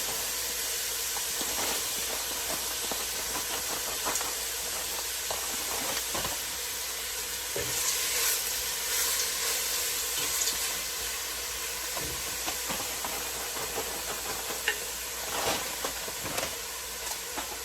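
Frozen spinach and finely chopped onions cooking in a pan make a continuous hissing sizzle with occasional stirring clicks and scrapes, close and steady without talk.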